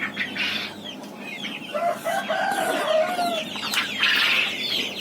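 A young batch of forty to fifty turkeys on a poultry farm in Saraburi calls out in overlapping clucks and shrill cries, some nearby and loud, others fainter, with no talk over them.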